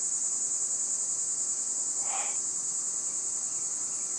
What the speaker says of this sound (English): This is cicada.